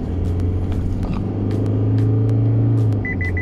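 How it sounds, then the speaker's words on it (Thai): A steady, deep diesel engine drone from an Isuzu MU-X 3.0 4WD SUV fills the clip, a low continuous rumble of the vehicle under way, with a faint high tone pulsing near the end. "เรื่องเสียงคำรามของเครื่องยนต์นี้ต้องทำใจนะครับ"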